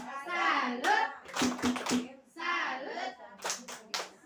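A group of people give a salute clap in a classroom-style session, several short bursts of hand claps standing out between stretches of someone speaking, with a voice briefly audible.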